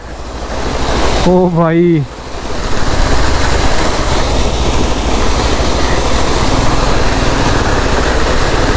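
Water splashes loudly and continuously against the front tyre of a vehicle stopped by a mountain road on the route from Badrinath to Srinagar Garhwal. A man calls out briefly before the heavy rushing spray starts.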